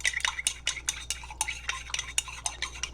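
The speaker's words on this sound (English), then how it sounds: "For every ingredient that you add, you have to mix it very well." Aloe vera lotion ingredients being mixed in a bowl: quick, rhythmic scraping and stirring strokes, about a dozen in three seconds, close and fairly loud with no talking.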